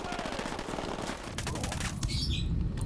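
Rapid automatic gunfire crackles in the tactical shooter Ghost Recon Wildlands, bursts of dense, fast shots layered over one another during a firefight, growing heavier toward the end.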